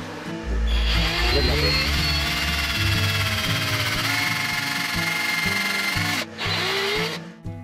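A power drill bores holes through material for homemade Wolverine bone claws, its motor whining steadily and loudly for about six seconds, dipping briefly in pitch and load, then cutting out and restarting near the end.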